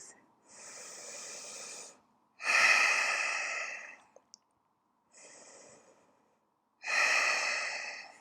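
Slow, deep breaths during a humble warrior yoga pose, alternating long hissing inhales and exhales, close and alone, four breath phases with quiet pauses between.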